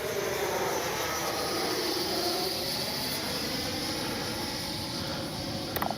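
FMS Avanti S 90mm electric ducted-fan RC jet on a high-speed pass, a continuous loud whooshing jet roar that stays steady throughout, ending with a couple of brief clicks.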